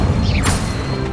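The Incendio fire spell going off in Hogwarts Legacy: a loud crashing burst with a swooshing sweep, close and forceful, set against steady game ambience.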